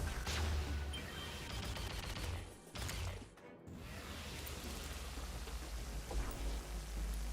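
Rain falls from a Nimbus Rod cloud in Terraria with the Calamity Mod, a dense, loud, continuous pattering with a crackling, ratchet-like texture and two brief dips, with no talking.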